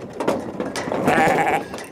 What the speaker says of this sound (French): Ces moutons de bruyère, race en voie de disparition, disposent de près de 4 hectares de pelouse tout autour de l'enceinte de la prison.